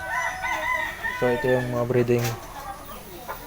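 On a Philippine chicken farm, a rooster lets out one loud, drawn-out crow near the middle, with scattered hen clucks around it and someone talking briefly.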